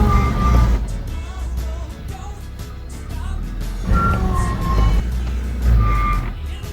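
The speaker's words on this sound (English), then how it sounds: "A rather unpleasant noise, originating from the right front wheel." A Land Cruiser on the move with a faulty right front wheel, a loud low rumbling drone with a grinding, scraping edge that swells in waves every couple of seconds, close and continuous.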